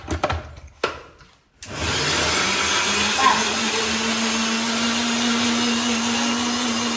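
An electric mixer grinder whirs into action grinding spices for biryani, a loud steady motor drone with a constant hum after a few brief knocks and handling sounds at the start.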